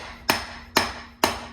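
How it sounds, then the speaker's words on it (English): A plastic dead blow hammer strikes a lowrider suspension part three times at an even pace. Each hit is a sharp, fairly loud thud that decays quickly, with no talk over it. "But it is a plastic dead blow, it shouldn't hurt anything."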